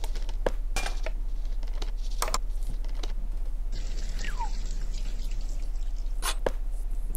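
A sink drips water in the video game Deponia, each drop landing as a sharp, distinct plink at irregular intervals over a low steady hum, with a brief swooping electronic tone in the middle.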